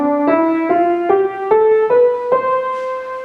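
A major scale climbs note by note in a bright, happy tone, about seven clear pitched steps evenly spaced, each note ringing into the next, played alone and close with no talking.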